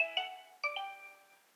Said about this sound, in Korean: 아들은 애타는 마음으로 전화를 걸어봅니다.